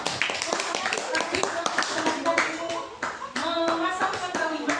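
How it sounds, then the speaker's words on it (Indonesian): A classroom group claps together, a burst of many hands beating in quick irregular rhythm, loud and close, with children's voices chattering underneath. "Tepuk tangan untuk kelompok."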